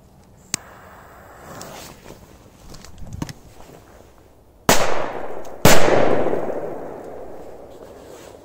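After a few faint taps, two loud, sharp firecracker bangs go off about a second apart, each leaving a crackling, fading tail.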